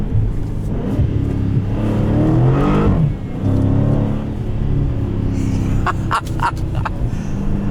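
A 2017 Dodge Challenger T/A 392 with an automatic gearbox pulls hard on salty roads, its deep V8 burble rising in pitch through a gear change, loud and close from inside the cabin, with brief higher squeaks near the end.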